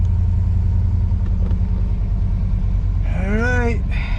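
A Kyosho Hellcat 81 Camaro Z28 RC car with a fuel injection unit sputters and revs up near the end, rising whine and pitch sweeps over a steady low rumble throughout.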